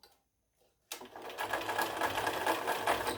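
Silence, then a sewing machine starts up close and runs steadily with a fast, even stitching whirr as it sews lines across a fabric square.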